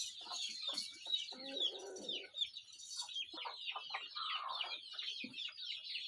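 Free-range desi hens cluck repeatedly in a village coop, with scattered bird calls and a brief crow-like note, steady and fairly close, no talking.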